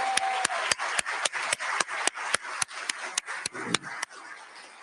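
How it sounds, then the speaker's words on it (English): Slow, evenly spaced hand claps in the Florida House chamber, about a dozen sharp smacks at a steady rhythm over a hushed room, moderately distant and not very loud. "Let's give her a round of applause."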